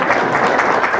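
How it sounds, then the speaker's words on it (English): Brief, dense applause from an audience at a library program, a steady patter of clapping for about a second. "But the applause is not for me,"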